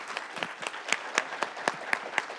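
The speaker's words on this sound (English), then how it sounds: "Let's have a round of applause to thank our guests." Audience applause at the close of a talk with an author and physician, a crowd clapping with distinct claps standing out, fairly close and steady across the whole stretch with no voices.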